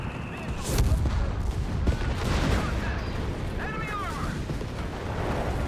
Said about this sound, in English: Got some heavy anti-tank and fire there against the Panzer IV.